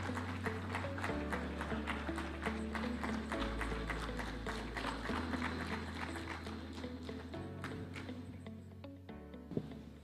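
An audience at a devolution conference opening ceremony in Eldoret claps continuously for about ten seconds to welcome the President, a busy crowd patter heard from a distance over a sustained low hum.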